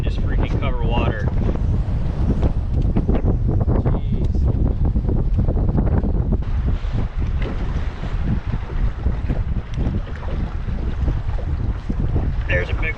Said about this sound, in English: The wind is so bad that I'm seriously having trouble with the jerkbait.